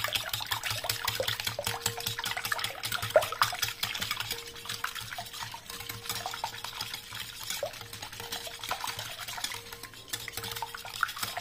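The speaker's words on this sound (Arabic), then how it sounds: "غادي نخلطوا كل شيء" Pancake batter with milk being stirred in a bowl, a steady scraping and clinking of utensil against the dish running throughout at close range, with no talking.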